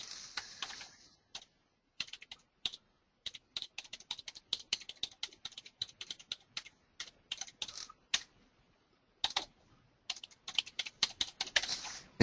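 Keys clack on a computer keyboard while logging in to a Weebly account, quick irregular bursts of typing with short pauses, close and fairly quiet, with no talking.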